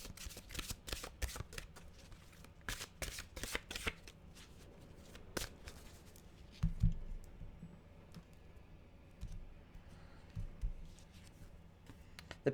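A deck of mantra cards being shuffled and handled up close, with bursts of crisp riffling clicks and flutters, then quieter sliding and a card drawn, no voice over it.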